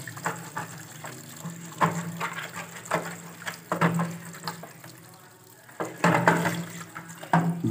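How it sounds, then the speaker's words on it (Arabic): Water is poured from a jug into the detergent drawer of an LG washing machine, splashing and gurgling in uneven bursts up close, with a brief quieter lull midway. "ده بقى نجيب على ميه كده"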